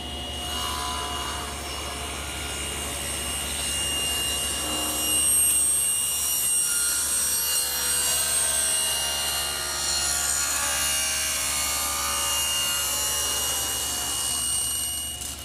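A table saw with a taper jig cuts tapered wooden legs, its blade whining steadily while the wood is fed through, rising to a louder grinding cut midway, close and without talk.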